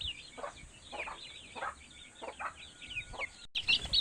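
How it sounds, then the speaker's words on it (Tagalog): Hybrid chicks cluck and peep while pecking at termites fed to them, a lively run of soft, repeated calls close by, with overlapping chirps toward the end. "mga sisiw, no, pinapakain din natin ng anay"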